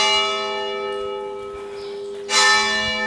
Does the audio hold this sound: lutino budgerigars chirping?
no